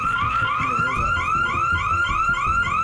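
A car alarm blares steadily and loudly at close range, repeating a rising electronic warble over and over with no pause.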